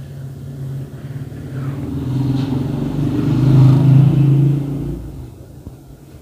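A sewing machine stitches the leg hem of a salwar, its motor giving a steady, close, low hum that builds for several seconds and then eases off, with no talking.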